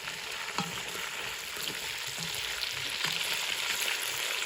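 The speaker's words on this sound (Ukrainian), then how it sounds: "Вже м'ясо піджарилося. Ну, підрумянилося, стяглося." Meat browning for plov in a village kitchen gives off a steady close frying hiss with faint stirring clicks throughout, and no voices.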